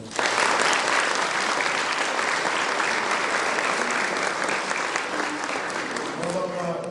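A concert audience at a folk ensemble's annual performance gives dense, sustained applause for about seven seconds, loud and close, with crowd noise mixed in throughout.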